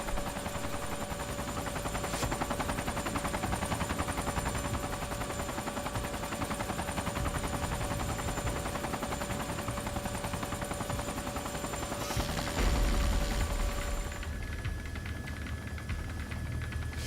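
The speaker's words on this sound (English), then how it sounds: "Shoot some more rounds." Rapid cannon fire from an AH-64D Apache attack helicopter in the ARMA 3 video game rattles on continuously beneath a steady rotor and engine drone, then cuts off near the end.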